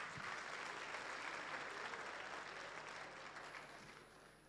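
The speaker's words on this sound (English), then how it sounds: "Let's give them another loud round of applause" An awards-ceremony audience gives a loud, sustained round of applause, a dense roar of clapping that gradually tapers off near the end.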